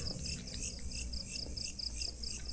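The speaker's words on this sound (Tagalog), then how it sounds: "So, kuliglig." Crickets chirp steadily in quick pulsing trills over a low background hum, fairly close, with no one speaking.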